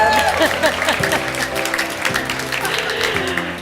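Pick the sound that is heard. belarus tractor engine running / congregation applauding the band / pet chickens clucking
congregation applauding the band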